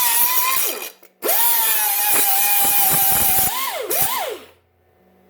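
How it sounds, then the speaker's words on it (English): A 3-inch grinder whines loud and close as it cleans off a metal edge, in two long bursts with a short gap between, its pitch dipping as the disc bites and winding down at the end. "So what I'm gonna do is, I'm gonna switch over my 3-inch grinder."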